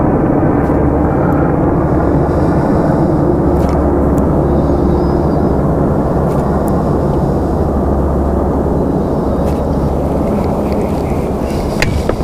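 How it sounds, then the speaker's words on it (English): A couple of military helicopters pass overhead near College of the Ozarks, a steady, continuous low rumble and drone that fills the whole stretch without fading, heard from the ground outdoors. "A couple of helicopters going over."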